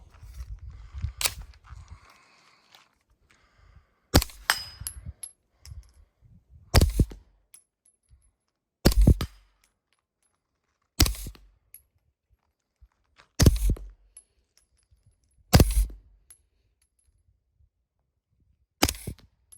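A retro 9mm AR rifle fires about ten rounds, each a sharp, loud report with a short ring. The shots are spaced a couple of seconds apart, with near-silence between them.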